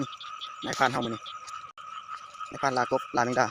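Frogs croak in repeated pulsing bursts outdoors at night, close and fairly loud, with someone talking over them.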